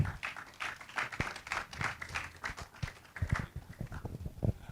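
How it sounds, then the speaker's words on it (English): Audience applause at a hackers' tech conference as a presenting academy is called up, a moderately quiet, uneven patter of hand claps lasting several seconds with scattered louder individual claps. "please, a round of applause"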